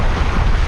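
Loud, steady wash of shallow surf breaking over sand and pebbles on a Palawan shore, with heavy wind buffeting the microphone throughout and no voices.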